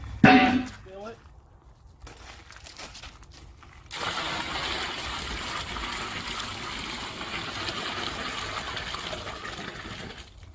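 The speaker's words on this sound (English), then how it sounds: "we're pouring this part of the hot water in a suitable container" Hot water pours into a container for dyeing gear, a steady gushing stream that starts after a few seconds of quiet handling noises and continues loudly to the end.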